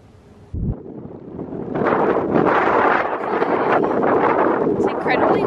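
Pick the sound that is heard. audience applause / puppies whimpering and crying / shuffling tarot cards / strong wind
strong wind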